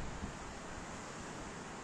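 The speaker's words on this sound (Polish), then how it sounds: "Mimo że wiatru nie ma, to jednak te fale są." Baltic Sea waves washing onto the shore on a calm, windless day, a faint, steady, hissing surf that rolls on without pause and with no voices.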